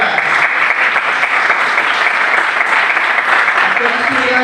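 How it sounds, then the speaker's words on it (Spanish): A large crowd at a film festival closing ceremony applauds loudly and steadily, dense clapping filling the whole stretch without pause. "Un aplauso,"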